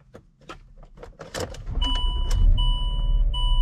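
A Land Rover LR3 with its air suspension raised to full height starts up, a loud engine catch and rising idle hum with steady tones, after a few clicks and a brief whirr.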